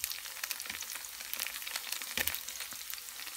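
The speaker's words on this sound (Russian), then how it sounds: "мы продолжаем жарить до румяной корочки снизу" Rice-dough dumplings fry in a pan until golden-crusted underneath, giving a steady close sizzle with crackling pops throughout and a brief louder spatter near the end.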